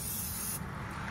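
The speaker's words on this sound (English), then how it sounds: "We're just gonna use some of this butter flavored non-stick cooking spray." Butter-flavored non-stick cooking spray hisses continuously onto a Blackstone griddle with the burners on low, one loud close steady spray lasting about a second.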